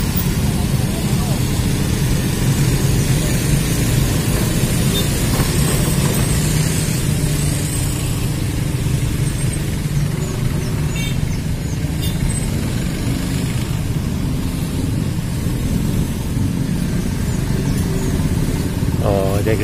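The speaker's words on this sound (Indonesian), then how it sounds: "Ini cukup padat nih kendaraan ini karena persimpangan titik pertemuan." Dense cars and motorcycles crowd an intersection near the East Flood Canal bridge in Duren Sawit, with a steady loud engine drone and passing revs. A person talks over the traffic.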